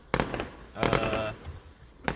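Fireworks go off near low-income apartments. Three sharp, loud bangs come separately, the middle one crackling for about half a second, and faint talk is heard between them.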